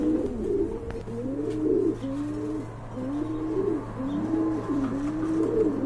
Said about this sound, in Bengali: এই যে দেখেন, দেখার মতো একটা কবুতর।